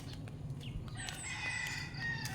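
A rooster crows outdoors during a walk, its harmonic call rising clearly over steady ambient background noise for about a second and a half.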